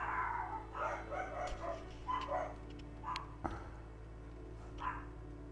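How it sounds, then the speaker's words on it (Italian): Dogs bark in the distance behind an indoor desk setup, several faint, scattered yaps and woofs spread across a few seconds, with a soft knock partway through. "scusate se ogni tanto sentite i cani"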